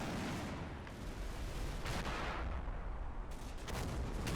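Gunfire from a tank in a tank video game firing at an anti-tank gun: loud, dense, continuous booming and blasting with sharp cracks throughout, alone with no voice.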